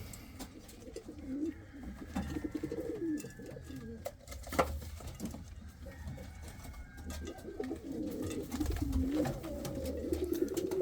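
Indian fantail pigeons in a loft coo softly and repeatedly, low rolling calls overlapping through the whole stretch, with faint rustling and wing shuffles in the background.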